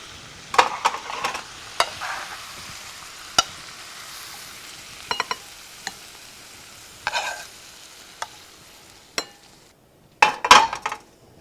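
Cabbage and bacon frying in a pan, a faint sizzle under scattered sharp scrapes and clinks of a utensil stirring against the metal, louder clatter near the end, no talking.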